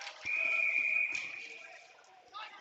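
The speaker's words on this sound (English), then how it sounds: "Now we've got a whistle." A referee's whistle at a boys' varsity ice hockey game sounds one long, steady, piercing blast over about a second, then trails off amid arena crowd murmur and a short second tweet near the end.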